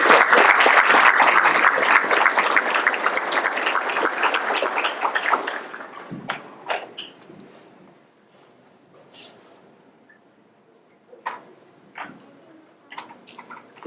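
Indoor audience applause at a Fort Worth police promotions and reserve officer graduation ceremony, loud and dense at first, then tapering into scattered claps and fading into quiet.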